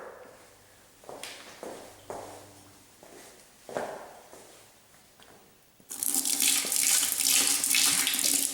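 Water trickles and splashes into a bucket of self-leveling floor compound mix, starting with scattered drips and pours, then a strong steady stream gushing in close up for the final few seconds.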